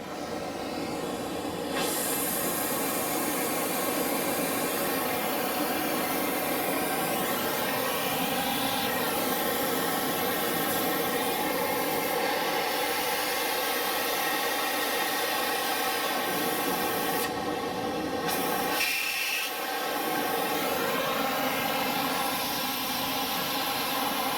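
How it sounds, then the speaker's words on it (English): Oxygen torch flame used to heat a bolt on a rotted leaf spring, with a steady loud roaring hiss throughout and a brief change in tone partway through. "So we're gonna fire up our torch here."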